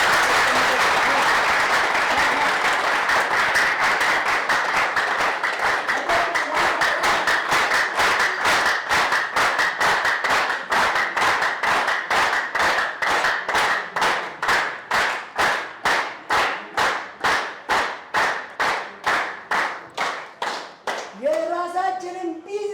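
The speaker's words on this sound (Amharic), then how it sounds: "በእናታችሁ አጨብጭቡ።" An audience at a business training seminar applauds loudly and steadily for a long stretch, the clapping turning into even, rhythmic claps that slow toward the end, where a voice briefly speaks.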